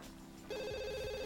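A Sims 2 telephone starts ringing partway through, a steady electronic trill that rings on clearly over quiet background game sound, with no talk.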